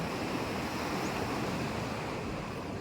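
Continuous roar of ocean surf during Typhoon Kristine, a dense wash of breaking waves with wind noise, steady and fairly loud throughout, no talking.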